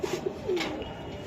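Black neck pigeons cooing at a pigeon sale, a few short soft coos in a quick rhythm followed by a longer drawn coo, close by over a busy market background.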